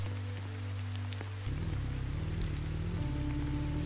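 Rain falling in the Roblox game Brookhaven RP, a steady patter under droning tonal game music that shifts pitch partway through, with no speech.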